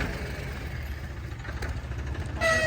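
A tractor engine idles steadily close by, an Escort 335 or Farmtrac, with a low even rumble and a light mechanical clatter that swells slightly near the end.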